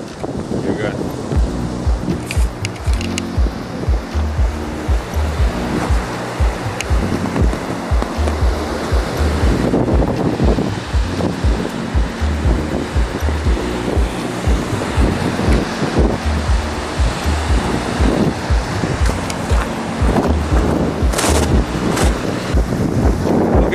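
Sea waves and strong wind on an icy winter coast, a constant loud rush of surf with heavy wind buffeting the microphone, and people talking in between.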